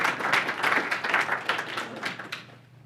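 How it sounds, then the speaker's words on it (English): An audience at a company meeting gives brief, moderate applause: a burst of overlapping claps that fades out within a few seconds. "Let's give them a big round of applause."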